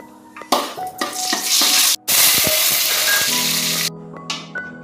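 Cashew nuts frying in ghee for pumpkin payasam, a loud burst of sizzling with stirring and a few metal spoon clinks against the pan, briefly dropping out midway then resuming before fading.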